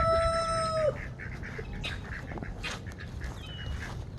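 Chickens on a farm cluck and call, opening with a clear, loud crow-like call that fades after about a second, followed by scattered softer clucks over steady background noise.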